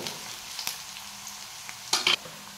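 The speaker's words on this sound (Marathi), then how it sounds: "हे चांगलं परतून घ्यायचं मसाला" Masala with crushed garlic sautéed in oil for brinjal curry, a faint steady sizzle with a couple of sharp spoon scrapes against the pan near the end, close by and without talk.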